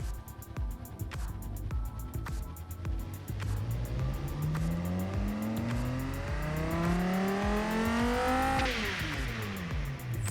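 A simulated 2003-2006 Dodge Viper V10 engine in the game Automation revs steadily upward in pitch, climbing through gears with a loud, sustained synthetic roar before dropping off near the end.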